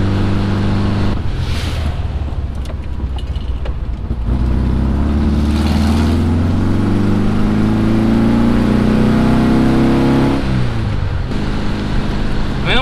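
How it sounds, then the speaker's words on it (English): A VW car drifting with an open differential, its engine droning loud and close with rising and falling revs, tire and road roar filling the whole stretch without a break. "Nothing like drifting with an open differential."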